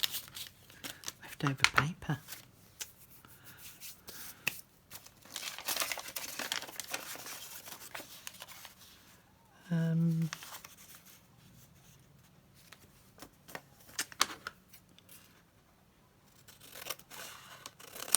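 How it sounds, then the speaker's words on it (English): Scissors cut through paper during a craft project, with snipping, rustling and crinkling scattered among quiet stretches while a person talks. "And I'm cutting that one narrower."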